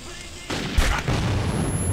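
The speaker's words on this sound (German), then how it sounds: "Das Dynamit ist auch schon böse" A dynamite explosion in the video game Metro 2033 bursts as a loud, close boom with a rumbling, noisy tail that fills the rest of the moment.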